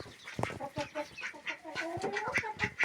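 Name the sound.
chickens clucking after evening feeding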